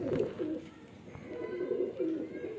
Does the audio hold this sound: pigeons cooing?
yes